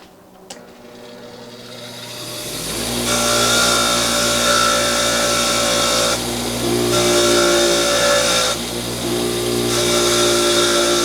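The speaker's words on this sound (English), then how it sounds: "I want to use the wire wheel and get rid of that crap." A bench-mounted wire wheel spins up and grinds steadily against a Homelite 330 chainsaw's Zama C1S carburetor part, scrubbing off old boot remnants; a loud continuous whirring rasp with brief dips where the part is pulled away.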